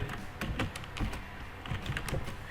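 A computer keyboard is tapped in a quick, steady run of keystrokes as a short ARP command is entered at a command prompt, close and clear over a constant background hiss, with no talk.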